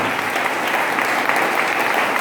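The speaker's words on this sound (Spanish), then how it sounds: "ese aplauso pues que sea más bonito para el Señor" Congregation at a missionary worship service applauds for the Lord, a close, loud and continuous burst of many hands clapping without pause.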